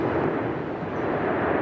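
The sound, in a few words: volcanic eruption with gas explosions on La Palma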